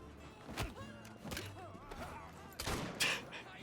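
Gunfire in Assassin's Creed Syndicate on PC: a handful of sharp shots and thuds at irregular intervals, mid-loud, over a busy in-game background with voices and clatter.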